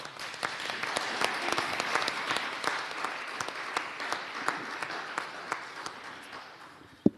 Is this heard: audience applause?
yes